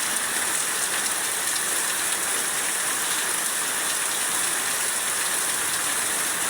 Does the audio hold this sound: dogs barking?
no